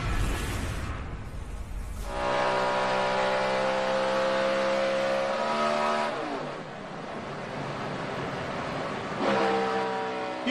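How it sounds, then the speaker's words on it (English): A NASCAR stock car at the 2011 Sylvania 300 rolls down the straightaway off throttle with the clutch in, its engine giving a loud, steady droning hum with shifting tones and no hard revving. "You can hear that car literally freewheeling."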